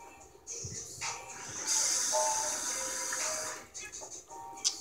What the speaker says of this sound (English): So you're gonna add your one cup of water in here.